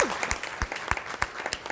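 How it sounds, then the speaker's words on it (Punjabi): Applause at a community celebration event, with individual hand claps cracking out sharply and unevenly against a softer background of clapping. "ਜ਼ੋਰਦਾਰ ਤਾੜੀਆਂ ਤੁਹਾਡੇ ਨਾਲ"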